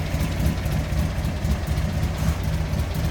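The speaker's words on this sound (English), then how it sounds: "I'll hit the start button right here and it'll fire right up" Manx buggy with a turbocharged engine idling, a steady low rumbling drone with slight uneven pulsing throughout, close and constant, with no talk.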